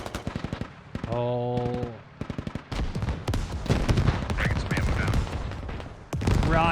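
Gunfire and RPG rockets crack through a militia ambush on Russian troops in the video game Squad, with rapid machine-gun bursts, single shots and heavy blasts, loud and dense throughout, under brief spoken commentary.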